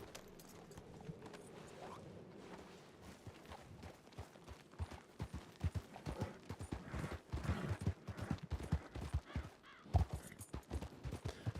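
Hooves of a video game horse clop along in an irregular, quickening rhythm, growing louder and busier as the animal gets moving, with faint voices talking underneath.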